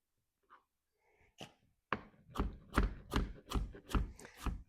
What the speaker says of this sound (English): rough chop on our carrots here. Cut the tops and bottoms off.